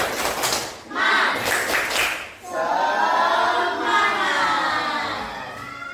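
Children in a classroom perform a rhythmic spirit clap: bursts of clapping in quick groups, then voices chanting together, loud and close, in a busy room.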